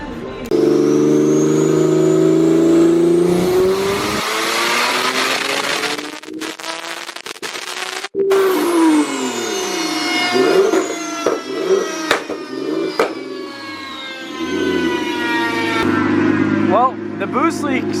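A twin-turbo Nissan 370Z with Garrett turbos revs hard, its loud engine note climbing and falling through sweeping pitch changes as the turbos spool, with a brief sharp pop midway.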